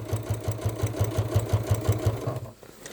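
A Janome Inspire sewing machine runs a long stitch length on a crossbody bag, its needle thumping in a steady quick rhythm close by, loud and clear, before stopping near the end.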